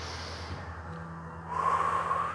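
A Pilates participant inhales audibly during an exercise on a large ball, a soft breathy intake that swells near the end of a short stretch.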